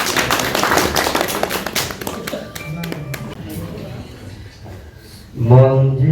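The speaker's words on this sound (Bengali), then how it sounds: "তার জন্য একটা হাততালি হয়ে যায়" An audience claps for Nazrul Islam, a museum booking assistant from Mainamati Museum in Comilla, as he comes on stage at a cultural evening; scattered clapping rises then thins over a noisy hall before music starts near the end.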